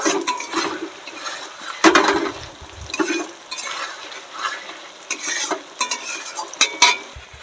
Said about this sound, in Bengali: এবার লবণ হলুদ দিয়ে আরও ভালো করে আমি কষিয়ে নেব।